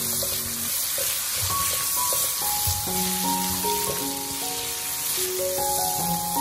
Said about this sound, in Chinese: 然后把姜蒜和小米辣加进来